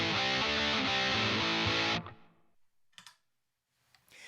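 Electric guitar chords played through a ProCo Rat distortion pedal, thick and fizzy: one loud, sustained distorted strum rings for about two seconds, then is abruptly muted, followed by a few faint clicks and a brief, soft noise burst, with no talking.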